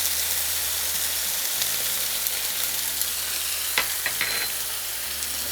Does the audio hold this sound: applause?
no